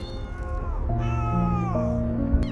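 A cat meows in drawn-out, wavering cries, fairly close, over a steady humming background.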